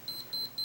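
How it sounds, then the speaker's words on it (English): A Minolta X-700 35mm SLR camera gives its low-light warning, three short, high, thin electronic beeps at an even pace, close and quiet. "The camera is also equipped with a little beep sound so that if you're trying to take a picture in too dark of an area"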